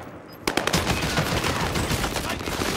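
Rapid automatic gunfire erupts after a brief quiet start in a Call of Duty: Modern Warfare battle-royale match. A dense, loud, continuous burst of shots lasts for over two seconds.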